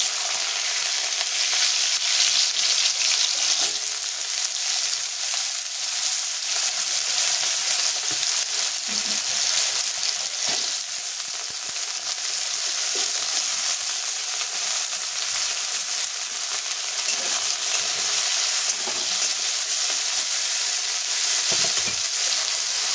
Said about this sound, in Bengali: এবার কড়াই তেল দিয়ে দিচ্ছি। আলুগুলো দিব, আলুগুলো ভেজে নিচ্ছি।